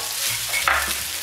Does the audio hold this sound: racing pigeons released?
no